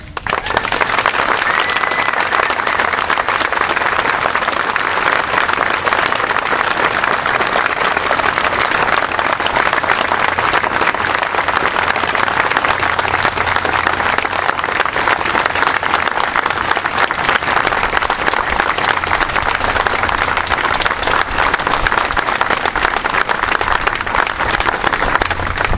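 Sustained, loud audience applause with dense hand clapping at a fundraiser for wounded soldiers, continuing steadily for the full length with no break.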